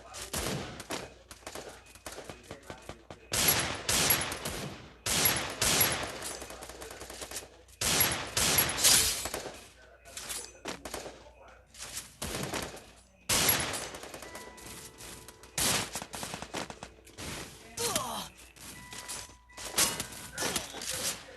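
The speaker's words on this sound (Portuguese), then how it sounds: "Ah, por causa dos dois tiros." Series of sharp gunshot-like bangs, several loud reports in bursts spread across the stretch, with crackling noise between them and some faint voices.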